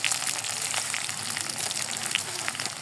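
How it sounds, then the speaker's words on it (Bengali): Garlic and chopped onion frying in about half a cup of oil, giving a steady, dense sizzle and crackle that holds close and even throughout, with no voices. "আমি এখানে তেল দিয়েছি, তেলের সাথে একটা বড় একটা রসুন আর একটা পেঁয়াজ কুচি দিয়ে দিয়েছি। এখন এটা বেরেস্তা করতে দিব।"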